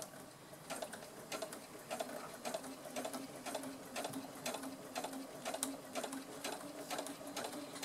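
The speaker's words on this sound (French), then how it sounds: "On va doucement et on est reparti sur une couture droite." A sewing machine stitches a straight seam on a quilted bag, its needle tapping in a steady, fairly quick rhythm with slight pauses, close and moderately quiet.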